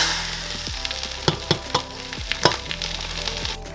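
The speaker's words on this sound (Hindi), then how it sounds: "तो आज मैं बहुत ही सिंपल तड़का दे रही हूँ, जीरा, तेज पत्ता, सूखी हुई लाल मिर्च एंड अराउंड 1/4 टीस्पून ऑफ हींग।" Tadka of cumin seeds, bay leaf, dried red chili and hing sizzling in hot ghee, a steady close crackling fry with a few sharp pops and stirring clinks, no voices.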